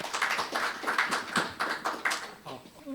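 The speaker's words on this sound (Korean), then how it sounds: "역시 박수로 환영해 주시면 감사드리겠습니다." A modest audience claps to welcome a speaker to the podium at an environmental leaders' forum in Korea, uneven rhythmic claps that thin out and fade toward the end.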